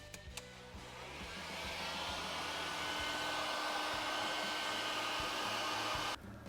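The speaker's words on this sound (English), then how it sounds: "I'm just going to put some heat on that with a heat gun" A heat gun blows steadily on a car interior part during a Ford Falcon FG hybrid interior build, a loud continuous whooshing hum that starts after a few clicks and cuts off abruptly near the end.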